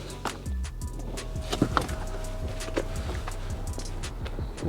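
Electric aerial motor on a 1996 Vauxhall Astra MK3 whirring steadily as the mast extends, a thin sustained mechanical hum close by, with clicks and small knocks around it.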